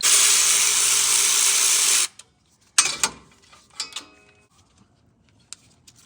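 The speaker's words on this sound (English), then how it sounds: "we need to take a 12mm socket and remove the bolt that holds the ABS wire in" A 12mm socket removes the bolt holding the ABS wire on the rear axle of a 2004-2015 Nissan Titan: a two-second burst of power-tool whirring, then quiet with scattered metallic clicks and clanks.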